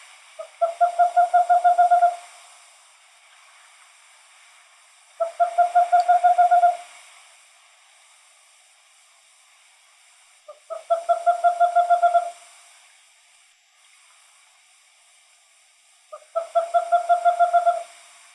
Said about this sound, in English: Then a western screech owl comes to serenade you.